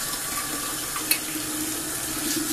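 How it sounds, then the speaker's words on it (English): Water runs steadily from a tap while cheesecloth is rinsed, a close, continuous splashing hiss with one brief clink. "rinse my cheesecloth off"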